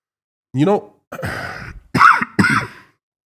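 Several harsh, raspy coughs in quick succession, close up, separated by short pauses, with a throaty, strained quality.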